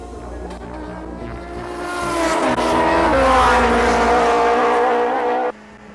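A Suzuki Hayabusa motorcycle on a quarter-mile drag strip screams past, its engine pitch climbing and swelling to a loud, close peak and then cutting off sharply.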